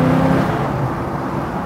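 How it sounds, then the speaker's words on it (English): A 1937 Ford street rod accelerates on a freeway, its engine a loud, steady low drone with a strong rumbling tone early on that smooths into continuous road and motor roar; no one speaks. "we're going up on the freeway northbound now, so you get a chance to see this thing run and drive"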